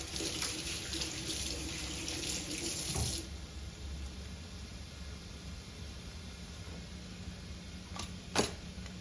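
A kitchen sink tap runs as hands are rinsed under it, a close, hissing stream that is strongest for the first few seconds and then settles to a softer steady flow, with a small clunk near the end.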